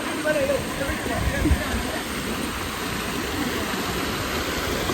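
A waterfall pours steadily into a pool at a hidden spot near Kanyakumari, making a constant, even rushing noise, with someone speaking over it throughout.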